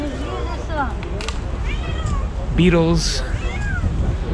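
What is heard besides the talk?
cat meowing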